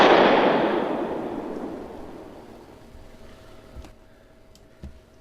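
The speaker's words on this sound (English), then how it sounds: "Suddenly, the fuse makes it to the escaping propane gas, and then there was a loud explosion." A leaking propane gas explosion bursts loud at the start, its roar decaying over several seconds into a low rumble with a few faint crackles after.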